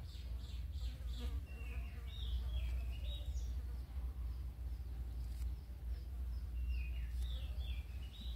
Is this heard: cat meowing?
no